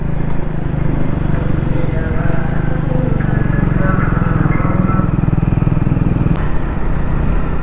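A motorcycle cruises steadily at around 40-50 km/h on a road between Samsi and Malda town, its engine droning loud and close with a constant throb throughout, with no break in the running sound.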